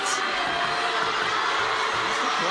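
A table tennis arena crowd during a semifinal, with dense, steady murmuring and cheering filling the hall and a brief whoop at the start.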